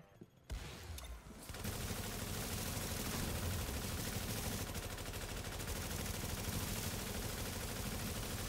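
Sustained automatic gunfire from a boss fight in the video game The Division, loud and continuous after a brief quiet start, forming a dense unbroken barrage.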